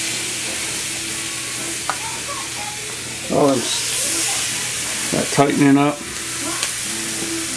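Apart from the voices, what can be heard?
food sizzling in a hot pan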